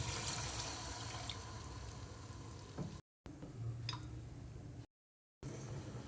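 Water, about one and a half glasses, being poured into a pot of partly cooked chicken for dum biryani, giving a soft, quiet, continuous splashing hiss with two brief silent breaks.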